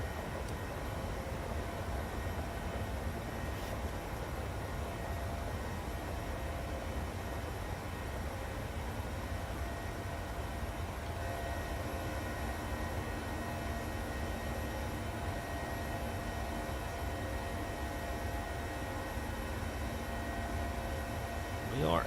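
A PMDG 737 jet taking off in a flight simulator game gives a steady, even engine roar with a low rumble that holds at constant loudness throughout.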